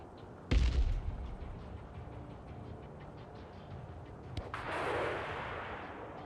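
A heavy boom and rumbling blast from the military strategy game Broken Arrow open the clip, followed later by a sharp crack and a long hissing explosion tail, all over a low battlefield ambience with no voices.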